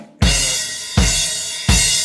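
Drum kit playing a rock groove, three loud close hits with booming kick and crashing cymbal, each ringing out before the next.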